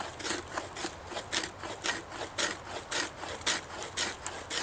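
A Mora Bushcraft Force knife spine scraping fine shavings from wood, heard as a steady series of close, rasping strokes about every half second, with no voices.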